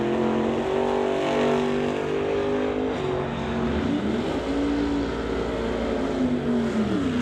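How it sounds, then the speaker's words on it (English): Drag race between a 1972 Chevrolet Chevelle and a Camaro, engines roaring loud with rising and falling revs as the cars launch and pull hard down the strip, a sustained throaty drone. "Walter Johnson dialed in at 11:36 in a 1972 Chevrolet Chevelle from Abbotsford. Going to be racing Kevin Garlock in his Camaro"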